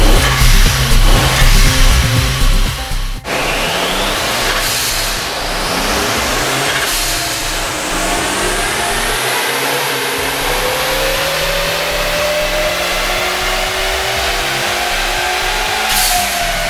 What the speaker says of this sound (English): Now we're switching to a GFB atmospheric venting valve.